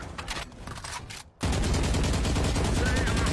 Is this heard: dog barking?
no